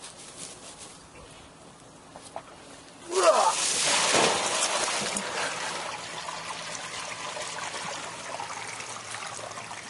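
Bleach pours from a container into a garden bed. A sudden rush of liquid starts about a third of the way in, then settles into a steady trickling stream that continues close by until the end.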